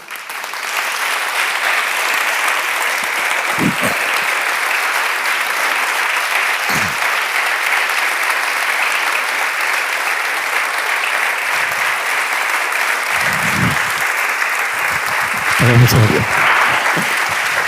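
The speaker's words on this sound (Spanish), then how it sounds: "Pido un fuerte aplauso tanto para Arturo Pérez Reverte como para Jorge Fernández Díaz." An audience at a literary event in Valladolid applauds two authors with strong, sustained clapping, a few voices and louder bursts rising briefly through the steady crowd noise.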